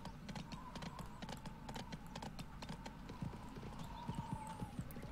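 Horse hooves clip-clopping in a galloping rhythm in the video game Go Vacation, a steady run of sharp repeated hoof strikes over a faint tonal game background, with no talk.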